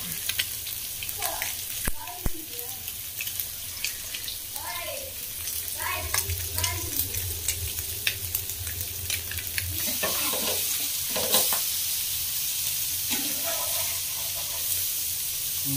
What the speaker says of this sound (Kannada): ಮೀನು ಎಣ್ಣೆಯಲ್ಲಿ ಕುದಿತಾ ಇದೆ